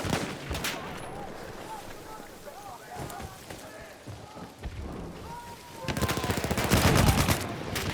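Rapid bursts of automatic gunfire in Battlefield 6, with scattered shots through the first half and a dense, louder volley near the end, while a player talks over the action.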